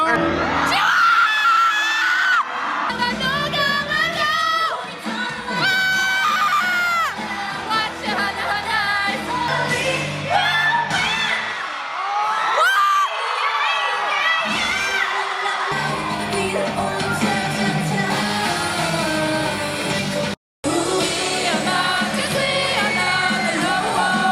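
Concert crowd at a K-pop show in Paris, screaming and cheering loudly and continuously over amplified music, with shrill high-pitched yells rising and falling throughout and a brief dropout near the end.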